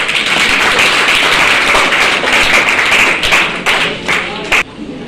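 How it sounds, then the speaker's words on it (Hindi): Loud audience applause, many hands clapping steadily before thinning out into a few scattered final claps. "मैं चाहूंगा इन कंपनी के लिए आप जोरदार ताली बजाएं"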